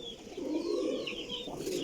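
Zeera golden pigeon gives a short, soft coo, low and murmuring, with faint chirps and background noise around it.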